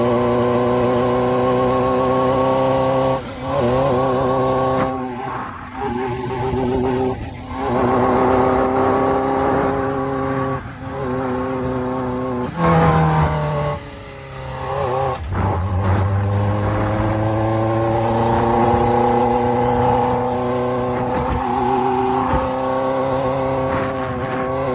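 A 1998 Suzuki GSX-R 600 SRAD with an unresolved running problem revs and pulls through gears on a ride, its engine tone rising and dropping repeatedly and loud, steady throughout.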